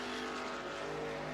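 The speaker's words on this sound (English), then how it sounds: "the rest of the traffic, Font and Mothers, come roaring by him down the back straightaway" Race trucks roar past in an eSports truck racing game at Michigan International Raceway, with a loud, sustained engine drone and steady tonal whine.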